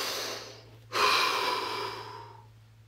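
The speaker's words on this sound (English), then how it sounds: "Take a deep, deep breath." One deep, slow breath taken close by: a sudden full inhale that fades gradually into a long release, alone over a faint low hum.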